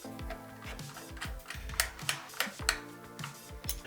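An M8 nylock nut is threaded onto a bolt while a tail tidy is fitted to a 2025 CFMOTO 675 SR motorcycle, giving close, quiet metallic ticks and ratcheting clicks in a quick irregular series.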